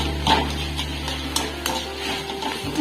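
Marinated chicken mince fries in a pan while being stirred, a low hum and sizzle under scraping and clinking of a utensil against the pan, with a few sharper knocks.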